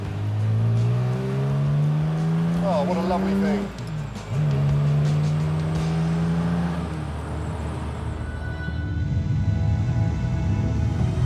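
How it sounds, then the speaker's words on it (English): A restored classic car engine hums and rises in pitch as it accelerates out of a tight roundabout, drops briefly during a gear change, then pulls again steadily, with someone talking over it. "I think we can call the engine response lusty"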